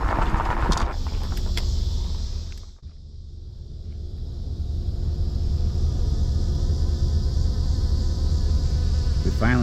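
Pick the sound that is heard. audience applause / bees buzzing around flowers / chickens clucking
bees buzzing around flowers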